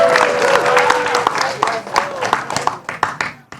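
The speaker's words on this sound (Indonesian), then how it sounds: "tepuk tangannya dulu." A studio audience at the grand final of an Indonesian youth Quran competition applauds, with scattered claps that thin out toward the end under an ongoing voice and background sound.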